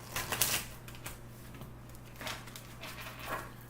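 A deck of tarot cards is shuffled by hand in a quiet room, with several soft riffling bursts and light card slaps over a low steady hum.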